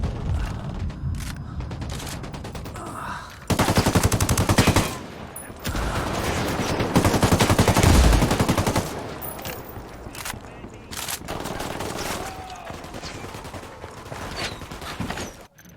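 Rapid gunfire rattles through a firefight in the Ghost Recon Wildlands video game, with dense bursts of automatic shots that come in waves, pause briefly and resume, loud and close.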